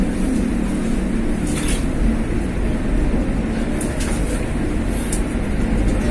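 An old passenger train runs between Surabaya and Yogyakarta, a steady loud rumble of wheels and carriage with faint higher rattles, heard from inside without pause.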